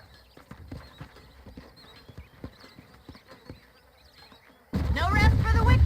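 Horses' hooves clip-clop in Red Dead Redemption, a scattered, moderately quiet patter of hoofbeats with faint buzzing insects, cut off near the end by a sudden loud burst of voices and noise.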